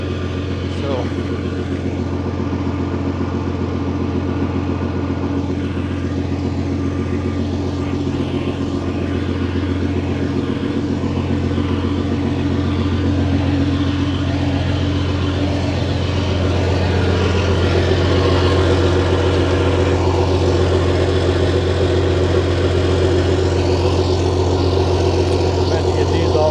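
A Freightliner Classic truck engine idles and runs in a steady, loud, low droning rumble for the full length, with people talking intermittently over it.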